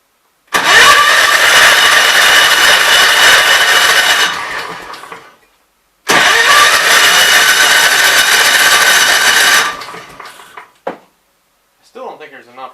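A Kohler K241 single-cylinder engine fires up and runs loud and close for several seconds, cuts out, then runs again for about four more seconds before dying away, ending with a few faint sputters.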